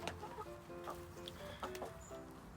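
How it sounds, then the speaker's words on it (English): Five chickens cluck softly and steadily in a coop run, with short, close, overlapping clucks and no talking. "And so we've got 5 chickens."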